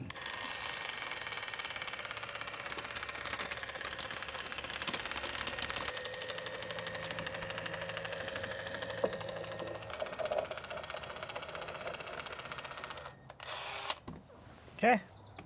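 A power driver whirs in short bursts as screws go in to fix a sunroom window during a home addition build, with faint voices in the background.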